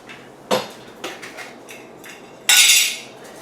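A metal backpacking cook kit pot being handled, with a few sharp clinks and light taps of metal on metal, then a louder rattling scrape near the end, close and quiet, with no talking.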